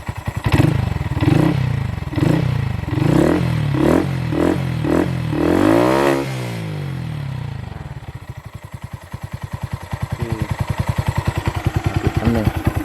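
A 2021 Honda Monkey 125 motorcycle with a five-speed engine is blipped repeatedly, its close loud exhaust rising and falling in quick revs, then settling into a steady rhythmic idle.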